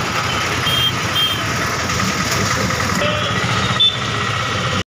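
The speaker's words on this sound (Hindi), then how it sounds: "अभी पापा जी गाड़ी मोड़ रहे हैं।" A car turning in the street while a vehicle's reversing alarm beeps steadily above a loud, continuous engine rumble and road noise close by.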